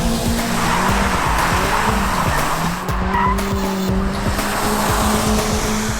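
Hyundai Ioniq 5 N electric car with simulated engine noise and tire squeal, a steady droning synthetic engine tone with screeching tires under load, loud and close, no talking.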